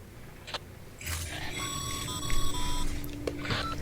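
Ringing alert in the video game Death Stranding: a bright electronic chime with several sustained tones that rises over a low hum for about two seconds, with faint clicks around it.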